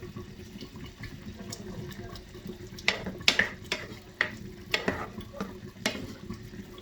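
Shrimp in a cooking pot for Senegalese thieboudienne are stirred, with a low bubbling simmer beneath a run of sharp scraping and clacking strokes that grow more frequent in the second half.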